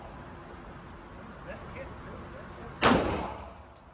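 A single sharp blast from a .45 1911 pistol at an indoor range, loud and close with a short echoing tail, set against a low steady room hum with faint voices.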